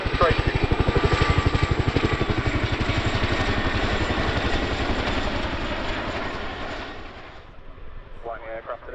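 Twin-rotor Chinook helicopter flying an airshow role demonstration, loud rhythmic rotor chop and turbine whine that gradually fades as it moves away, with a commentator's voice over it.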